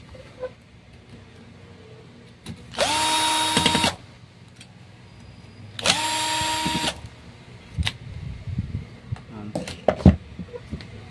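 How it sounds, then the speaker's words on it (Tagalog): A power drill runs in two short bursts of about a second each while removing screws from an LG 24-inch monitor with no power, followed by light clicks and handling noises. "tanggalin natin muna ang screw"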